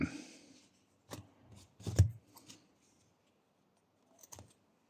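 Scissors snip through crochet yarn in a handful of quiet, crisp cuts separated by near-silence, with soft handling rustles between snips and a brief murmur of voice at the very start.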